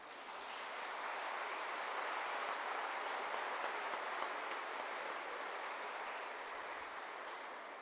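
An audience at a book presentation breaks into sustained applause, a dense even patter of many hands heard from a distance that swells quickly and holds steady for several seconds.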